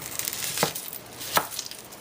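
A knife chops through a bell pepper on a cutting board, cutting it into fourths: two crisp, separate chops in an otherwise quiet kitchen.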